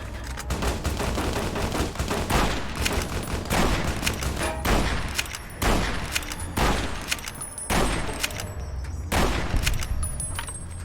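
Heavy gunfire in Fallout: New Vegas, loud rapid bursts of shots and volleys repeating densely across the whole stretch, close and punchy with brief gaps between bursts.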